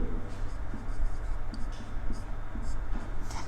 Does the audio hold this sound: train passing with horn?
no